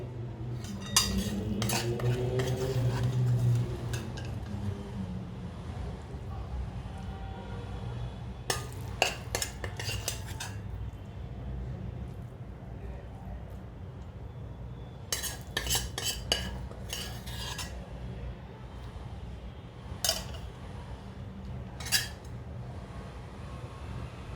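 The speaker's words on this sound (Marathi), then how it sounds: "आता आपण जीव राहिलेली भाजी आहे ती परत त्याच्यावर घालून घेतोय" A spoon scrapes and clinks against a metal pot as leftover mushroom vegetable mixture is layered into a mushroom dum biryani, with bursts of clattering at intervals between quieter stretches of low background hum.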